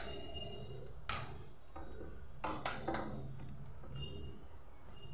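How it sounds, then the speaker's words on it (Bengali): Two boiled potatoes are mashed with a masher in a pot, producing scattered dull knocks and scraping taps against the metal, with two or three sharper clanks standing out over a quiet kitchen background. "আমি সেদ্ধ করা দুটো আলু নিয়েছি, ম্যাশার দিয়ে ভালো করে"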